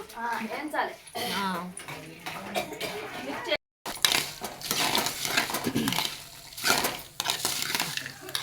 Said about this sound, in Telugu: కరేపాకు వేయించాలి కరేపాకు వేయించాలి